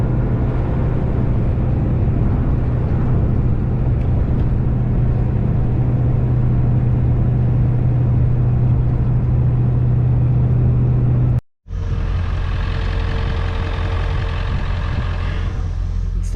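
A loaded truck drives along the road, its steady engine rumble and road roar continuous and close, broken by one brief cut before the drone resumes slightly brighter.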